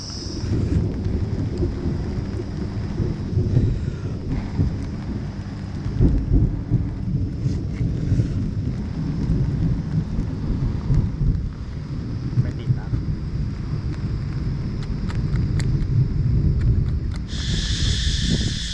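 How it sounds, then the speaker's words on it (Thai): Low rumbling thunder rolls beneath steady rain and wind at the seashore, heard nearby, with someone talking over it throughout. "ฝนเพิ่งตกไปด้วยนะครับ แล้วตอนนี้ยังไม่หยุดนะครับ ผม แล้วฟ้าร้องมาก"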